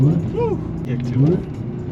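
An Audi S5's supercharged engine hums with a steady whine inside the car while someone talks over it.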